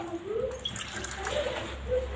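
Water poured onto dried vanjaram fish to soak it, a short close trickle and slosh with a voice speaking over part of it.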